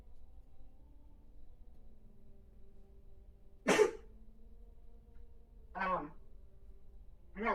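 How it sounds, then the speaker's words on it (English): A single sharp, loud sneeze bursts out close to the microphone against a quiet background hum. A couple of shorter breathy vocal sounds follow a couple of seconds later. "Oh, I'm gonna sneeze again."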